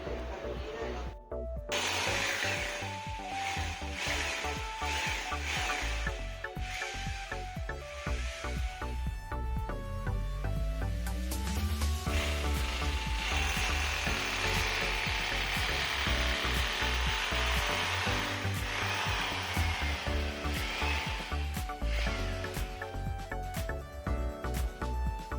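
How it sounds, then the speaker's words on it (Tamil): A power drill bores holes into a wall for a wall-mounted WiFi router and set-top box holder, a loud continuous whine and grinding that shifts pitch as it bites, running steadily for a long stretch. "இப்போ நம்ம வந்து டபுள் சைடு வந்து ட்ரில் பண்ணியாச்சு"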